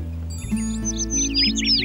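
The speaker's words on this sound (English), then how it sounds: "Baby birds." High, rapid chirps of baby birds flutter in short bursts over a steady low hum, the tweeting bright and close.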